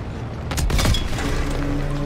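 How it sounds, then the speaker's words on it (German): A tank shell in Call of Duty: WWII strikes armour and glances off with a single sharp metallic bang, followed by a lingering ringing hum and low rumble, close and fairly loud. "Der Schuss ist vorne abgeprallt."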